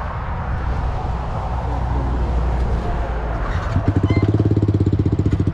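A motorcycle engine rumbles beside other bikes, including a Yamaha R, a Beta 350 RR and a GSX 1000, then fires up into a loud, close, rapid pulsing idle near the end.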